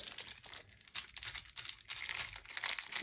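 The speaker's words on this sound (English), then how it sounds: "see what a bit of cellophane might do." Cellophane being crumpled and crinkled up close, a dense bright crackle with uneven bursts and brief pauses across a few seconds, used as a texturing material in printmaking.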